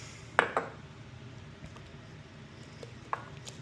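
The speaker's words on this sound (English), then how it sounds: "And we do a little mixing." Sourdough starter being stirred in a container, a few soft, sticky knocks and scrapes clustered near the start with one more later, faint and close against a quiet background with no talking.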